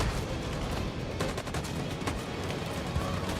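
Sustained covering gunfire in a video game shootout, a dense rattle of overlapping automatic shots and distant bursts, steady and moderately loud throughout with no talk.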